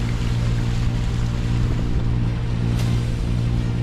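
A motorboat motor drones steadily with a low hum over splashing water near a marina in Brisbane's Redland City, continuous and fairly close throughout.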